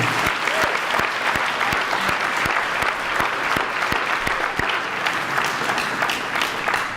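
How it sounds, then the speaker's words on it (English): Crowd at a high school athletic awards and hall of fame ceremony applauding the 1988 basketball team, steady loud clapping with distinct individual sharp claps standing out, continuing throughout. "How about another big round of applause for the 1988 team?"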